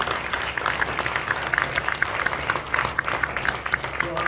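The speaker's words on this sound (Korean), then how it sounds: "여러분 박수로 환영해 주시기 바랍니다." A church congregation applauds in welcome for a retired elder pastor at a thanksgiving service, steady dense clapping filling the room for several seconds without letup.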